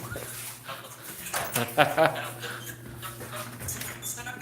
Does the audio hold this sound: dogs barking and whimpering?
yes